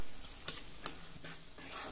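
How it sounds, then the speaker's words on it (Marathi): Lentils and peanuts frying in oil for an onion-greens dish, giving a soft continuous sizzle broken by a few sharp scraping stirs of the spoon, close and fairly quiet with nobody speaking. "आता तेलामध्ये हे डाळदाणे आपण जरा परतून घेऊ"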